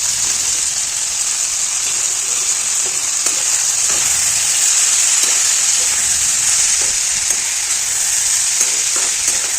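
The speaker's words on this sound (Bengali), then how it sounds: "এইভাবে নাড়াচাড়া করে নিচ্ছি" Cauliflower stalks and mixed vegetables stirred and frying in a pan for a Bengali stalk curry, a steady bright sizzle running throughout with soft scraping stir strokes, close and fairly loud with no talking.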